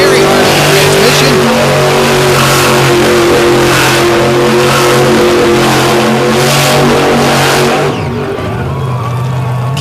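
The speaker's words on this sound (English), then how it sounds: "Kicking up a cyclone of smoke and dust as he donuts his way across the infield." A monster truck spins donuts across a dirt infield at an all-star show at Lake Erie, its engine roaring hard and revving continuously. A brief dip near the end is followed by more full-throttle revving.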